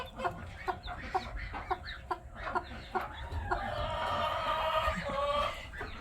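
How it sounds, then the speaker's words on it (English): Chickens cluck in short, repeated bursts close by, with a new chick among them and a higher, sustained peeping call rising in the last couple of seconds. "So we have a new little chickie."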